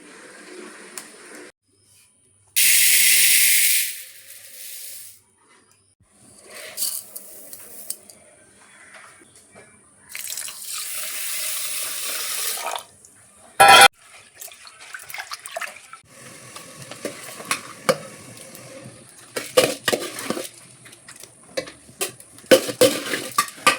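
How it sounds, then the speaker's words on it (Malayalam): Tap water runs in short bursts into a metal pot set for cooking rice, with clinks and clatter of cookware between pours. "ഇനി ചട്ടി മടിച്ച് വെച്ച് ചോറിനുള്ള വെള്ളം വെക്കാം"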